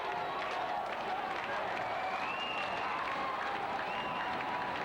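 Wrestling crowd at an independent show, Cowboy Ron Bass against He-Man, cheering and applauding in a steady, dense wash of claps and shouts that continues throughout.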